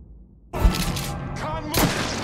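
Gunfire in the video game Mafia 3, a sudden loud burst of shots after a quiet start, followed by a second sharp blast near the end.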